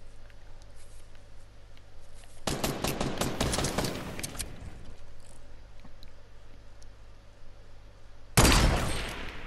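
Fortnite gunfire, a fast cluster of shots in the middle followed by a quieter stretch, then a sudden loud burst near the end.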